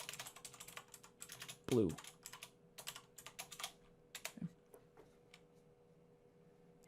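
Bursts of quick, close clicking keystrokes on a computer keyboard, irregular and fast, with a couple of louder thumps and a brief spoken word partway through.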